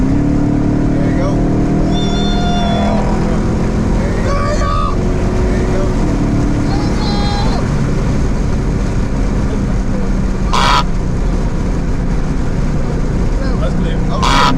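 A modded Chrysler 300 engine roars steadily and loudly close by, with rising revs and people shouting and talking over it throughout.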